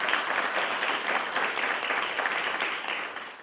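A crowd applauds at a regional chamber event, a dense, steady wash of clapping that goes on evenly before slowly easing off, with no one speaking.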